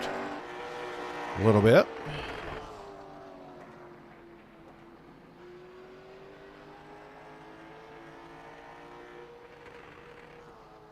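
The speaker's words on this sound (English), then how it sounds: "All the way up against the rev limiter. You can hear that at the end of the straightaway." A race car, the No. 89 at the Las Vegas Motor Speedway Bullring, holds a steady high-pitched engine note pinned at the rev limiter, running beneath a commentator's continuous talk after a brief loud burst near the start.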